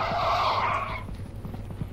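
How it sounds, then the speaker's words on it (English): A car engine in the video game Content Warning roars briefly with a squealing, skidding whine, then drops away into a low rumble. "That sounds like a car"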